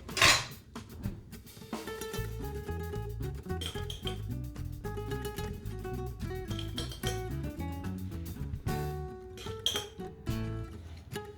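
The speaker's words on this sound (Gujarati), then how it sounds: "આપણે કાચની બરણી છે એમાં આપણે આ ભરી લેશું" Sesame sweet (tal ni saani) spooned into a glass jar, giving light, irregular clinks and scrapes of a spoon against glass and metal over steady background music.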